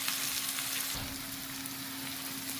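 Vadagam crackles and sizzles in hot oil in a pan with fried ingredients, a steady bright frying hiss with a brief stir or drop partway through, no talking.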